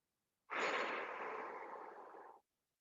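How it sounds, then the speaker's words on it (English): One long, deep inhale taken during a hip stretch, a close, breathy rush lasting about two seconds that fades slightly before stopping, alone in silence. "we're going to inhale right into that tension"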